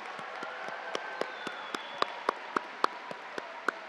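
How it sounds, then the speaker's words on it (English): Parents in the audience at a Touro University white coat ceremony give sparse, quiet applause: a light patter of scattered claps, with a few distinct sharper claps standing out at irregular intervals. "now we return and give you a round of applause to the ones that you love"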